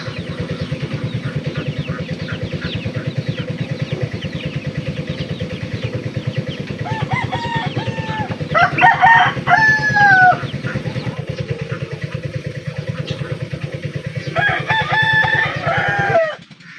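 Laying hens clucking in a farmyard while a rooster crows twice, loud and close, over a steady pulsing engine-like drone that runs throughout and cuts out near the end.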